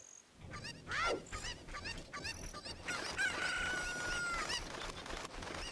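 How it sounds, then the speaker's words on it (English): Chicken clucking and squawking in the video game Zelda: Ocarina of Time, loud and close, repeated several times amid other game effects and tones. "Just like this chicken!"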